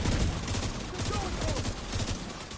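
Rapid bursts of automatic gunfire crackle in a firefight in the shooter game The Division 2, dense volleys rattling near and loud across the whole stretch with a faint voice beneath.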